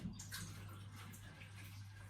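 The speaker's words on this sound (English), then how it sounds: "Wash it in cold water in the sink" An ostomy bag is rinsed under cold running water in a sink; a steady, soft stream of water splashes continuously over a low background hum, with no speech.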